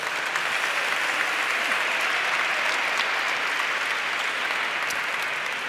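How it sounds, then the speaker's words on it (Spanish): Sustained audience applause fills a hall during a panel on European politics, a dense, even wash of clapping that stays loud and steady throughout with no voices rising above it. "yo me imagino que las personas que aplauden"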